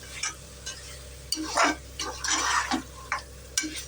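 Fresh prawns fry with masala in a pan, giving a crackling sizzle broken by bursts of stirring and scraping, close and moderately loud with no talk.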